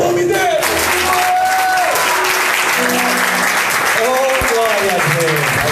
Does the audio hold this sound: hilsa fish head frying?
no